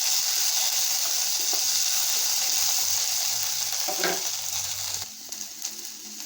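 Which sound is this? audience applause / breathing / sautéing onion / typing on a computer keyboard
sautéing onion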